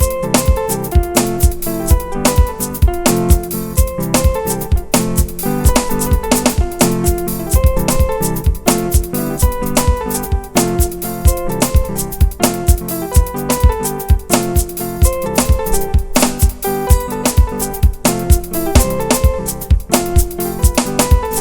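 Piano playing a makossa beat, a dense, evenly pulsing rhythm of repeated chords and bass notes at steady volume throughout, with no talking.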